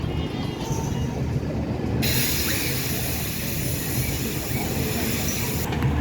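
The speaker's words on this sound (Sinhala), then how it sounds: "මේක නම් පුංචි කෝච්චිය." A small kiddie train ride at a carnival in Anuradhapura during Poson runs with a steady, loud rumble and hiss of wheels and machinery, continuous throughout, with crowd noise blended in.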